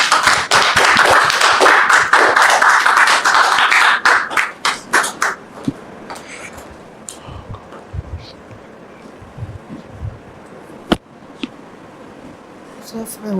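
An audience applauds to welcome a guest onto a stage, dense loud clapping for about four seconds that thins into scattered claps and fades, with a few isolated taps and thumps afterward.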